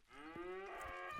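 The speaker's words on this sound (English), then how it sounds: "we hear cattle being murdered everywhere" Cattle lowing in the real-time strategy game 0 A.D., a single drawn-out, loud moo with a wavering pitch, heard alone without talk.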